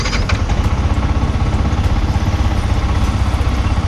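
A Yamaha MT15 BS6 motorcycle idles steadily just after starting, its engine chugging in a fast, even, close-up rhythm with no talking.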